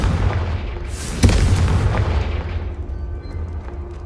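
Confringo spell blast in the Hogwarts Legacy video game, a loud booming explosion that hits at once and rumbles away over a few seconds, loud and alone with no talking.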